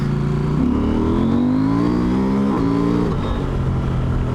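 A KTM 890 Rally motorcycle engine pulls hard at full throttle on a dry road, its note rising steadily through the gear, dipping briefly at a shift near halfway, then climbing again, loud and close with no talk.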